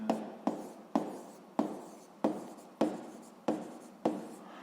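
Pen writing physics notes on paper, seven regular strokes each starting with a sharp scratch that fades, close and quiet with no talk.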